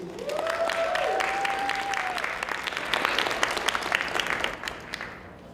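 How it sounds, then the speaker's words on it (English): A student audience at a university election debate gives the candidates a round of applause, full and sustained clapping that swells midway then tapers, with a voice briefly heard over the start. "One last round of applause for all our candidates,"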